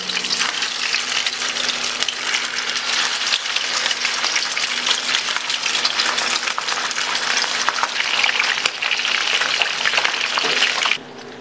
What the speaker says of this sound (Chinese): 现在把这个鱼给煎一下。